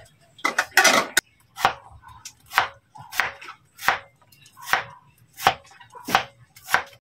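Chayote being cut with a knife on a board, about a dozen sharp, distinct chops in an uneven rhythm, close and crisp, with a brief cluster of quick cuts near the start.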